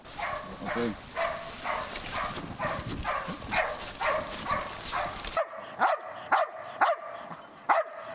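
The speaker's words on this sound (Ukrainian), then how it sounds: "Гавкотом сповіщає, знайшла" A rescue dog barks repeatedly in sharp, close bursts in a forest after finding a person, the barks coming in a quick, uneven series with rustling outdoor noise in the first half.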